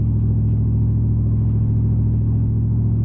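A 1994 Mercedes E500 V8 accelerates, heard from inside the cabin as a steady, loud, low engine rumble with a smooth continuous drone and no talk.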